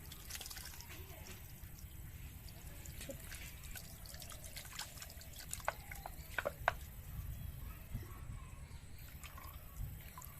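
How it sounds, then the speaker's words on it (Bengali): Chhana (cottage cheese) gets rinsed under cold running water at a kitchen sink, a steady trickle with scattered drips and splashes, close and fairly soft throughout. "ছানাটা আমি এবার ঠান্ডা জলে ধুয়ে নেব।"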